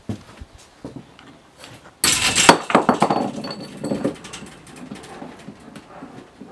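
Ceramic object smashed inside an abandoned house, a sudden loud crash with clattering shards that tails off into scattered debris clinks, preceded by a few faint knocks, close and with no one talking.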